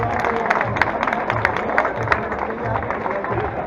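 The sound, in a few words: applause for athlete at race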